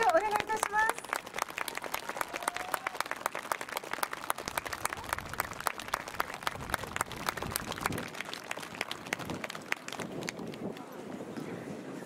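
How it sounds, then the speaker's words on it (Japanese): A large outdoor crowd at a taiko drum performance during a cherry-blossom viewing event at Himeji Castle claps in a long, dense burst that gradually thins and fades near the end, with a voice briefly heard at the start. "姫路市太鼓団体合同の皆様に今一度盛大な拍手をお願いいたします。"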